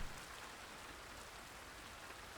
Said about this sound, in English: The rain outside falls hard.